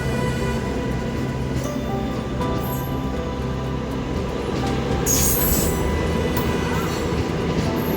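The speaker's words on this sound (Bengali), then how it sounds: "এই যে মালদা থেকে শিলিগুড়ি ডেমো যাচ্ছে" A Malda to Siliguri DEMU train rolls past steadily nearby, a continuous rumble of wheels and engine with occasional brief high squeals from the rails.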